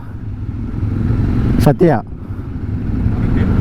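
Royal Enfield Himalayan motorcycle being ridden on a road, its steady engine drone running throughout with a brief interruption midway as a voice speaks over it.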